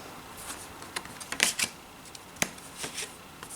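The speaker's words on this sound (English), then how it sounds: "if you take that brand new deck and you only shuffle it this way" A deck of tarot cards being shuffled by hand, with quick bursts of riffling and flicking clicks at irregular intervals, close and clear with no talk.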